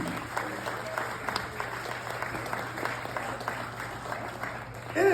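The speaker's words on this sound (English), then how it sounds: "Let's give the family a round of applause and thank you all for being here." A crowd at a Minnesota blues hall of fame award ceremony gives a round of applause, steady, moderately distant clapping from many hands in a large room, continuing throughout.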